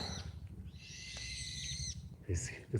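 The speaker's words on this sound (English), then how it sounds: "Bulbuls, the birds that are making such noise." Bulbuls in sprinkling rain in Tokyo give a long, shrill, squealing call at middle distance, followed by shorter chirps, over a soft rain hiss.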